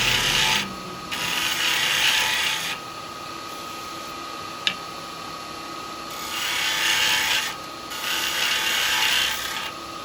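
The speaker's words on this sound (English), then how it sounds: "Just cutting the oak, nothing else." A woodturning lathe spins a large segmented oak ring at about 2000 RPM while a carbide tool cuts it, making bursts of dry, rasping scraping that start and stop several times, with one sharp tick partway through and no talking.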